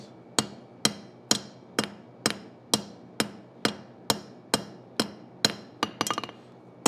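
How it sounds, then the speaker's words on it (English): A cross peen hammer fullers hot steel at a forge with about a dozen sharp, ringing blows at an even, unhurried rhythm, close and clear, ending in a quick cluster of lighter taps. "use a cross peen, fuller this out"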